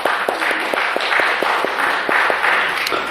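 A church congregation applauding during a Sunday service, steady dense clapping from many hands sustained throughout without talk.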